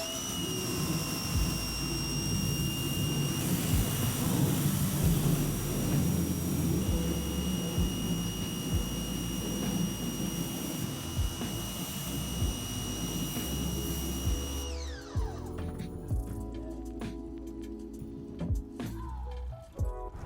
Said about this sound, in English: Now we're gonna rinse it out with a pressure washer and create our stencil.